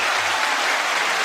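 A brief, dense burst of applause plays as a steady, loud wash of clapping with no gaps or voices, likely a dropped-in sound effect on a music commentary show.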